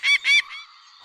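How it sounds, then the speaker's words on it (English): A seagull's call rings out in two loud, harsh honking bursts, followed by a softer third note that trails away into quiet. "The seagull is a very intelligent bird."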